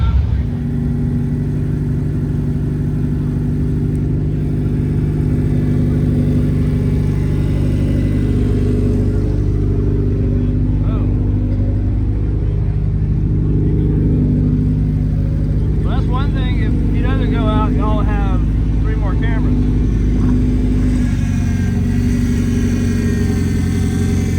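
Race cars at Talladega Short Track during the Ice Bowl, a loud continuous engine drone that rises and falls as cars circle, with a voice talking over it partway through.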